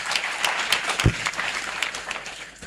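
A group of children and congregation applaud at a French-language sermon gathering, a short burst of dense clapping with some louder close claps and a low thump near the middle, fading slightly at the end.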